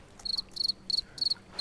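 Cricket chirping sound effect from a difficult climbing video game, heard as five evenly spaced, shrill chirp bursts repeating in a steady rhythm, moderately loud and with no one talking.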